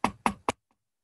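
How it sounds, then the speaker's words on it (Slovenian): Three firm knocks on a wooden door in a quick uneven rhythm, close and loud, then silence; set on a freezing night at a farmhouse in a Carinthian folk tale. "je znova začula trkanje in tarnanje"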